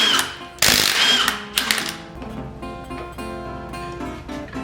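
Crank pulley bolts come off an International engine with a rapid ratcheting whir, followed by tool clicks and a softer metallic mechanical chatter that fades out.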